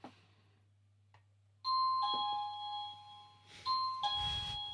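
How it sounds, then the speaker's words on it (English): A two-tone electronic doorbell chimes twice, a ding-dong followed by a second ring after a short pause, loud and clear over a steady low hum. "Okay, it's a doorbell."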